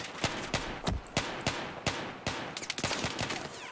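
Pistol gunfire in Battlefield 1, a steady series of about a dozen sharp shots at irregular spacing, loud and close with a short echoing tail, firing alone with no talk.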